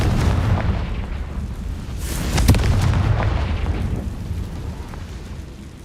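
A fire spell going off in Hogwarts Legacy, a single booming burst near the middle of a sustained rumbling, crackling roar that stays loud throughout.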